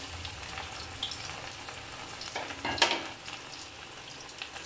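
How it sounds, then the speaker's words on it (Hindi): Mutton gola kebabs dropped into hot oil sizzle steadily nearby, swelling into a sharp crackling burst as more pieces hit the pan, then settling back to a lighter hiss without speech. "ये ऑयल गर्म हो गया और ये मैं सारी डाल रही हूँ गोला कबाब"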